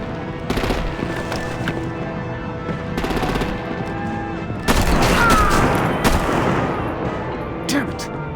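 Bursts of gunfire and artillery blasts in a Batman Telltale game battle, loud and dense, with a heavy barrage swelling near the middle and sharp reports scattered throughout.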